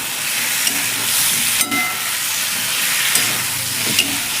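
Six kinds of mixed vegetables fry in an uncovered pan, a loud steady hissing sizzle with steam, punctuated by a few light stirring clicks.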